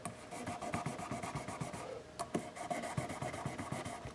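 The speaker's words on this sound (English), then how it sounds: "I've got a little tiny bit of 1000 grit sandpaper folded over. Just going to go ahead and put a little shine" A small folded piece of fine 1000 grit sandpaper rubs back and forth over the frets of a Made in Japan Fender Stratocaster, making soft, quiet, rhythmic scratchy strokes close up.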